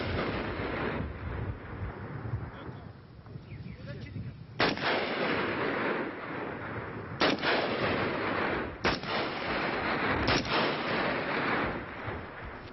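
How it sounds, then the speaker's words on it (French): Gunshots ring out in the mountains of Kurdistan, four sharp cracks spaced a few seconds apart over a steady rumble of wind and distant background noise, with no speech. "Ces coups de feu dans la montagne,"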